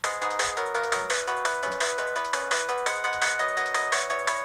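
A drum and bass track under production plays a bright repeating synth melody over quick rhythmic hits, steady and fairly clear, with no voices.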